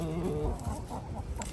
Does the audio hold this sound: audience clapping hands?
no